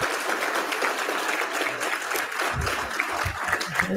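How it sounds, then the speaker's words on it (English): Applause from a panel audience honoring mayors carries on steadily, a thick continuous clatter of hands with some low thumps entering in the final seconds. "please join me in a round of applause"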